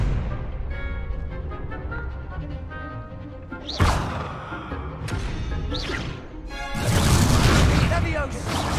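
Fiery Confringo spell blasts during a dueling tournament in Hogwarts Legacy, several heavy booming explosions in quick succession with crackling bursts, the last the loudest and longest, while voices and game sounds run beneath.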